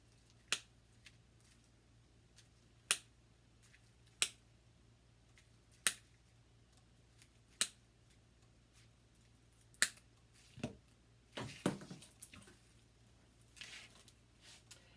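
Crisp, sharp snips of stems being clipped apart for a holiday floral arrangement, about seven evenly spaced cuts close up, followed by rustling handling noises.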